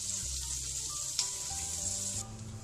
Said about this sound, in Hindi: बटर मेल्ट हो गया है, अब मैं इसमें जीरा ऐड करूँगी